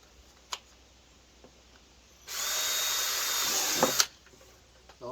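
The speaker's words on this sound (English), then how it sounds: "So I think I'm going to be drilling way out here, which isn't going to hurt a thing." A power drill bores a hole for a bagger motorcycle mount, one steady high whine lasting under two seconds before stopping, with faint clicks and handling noises around it.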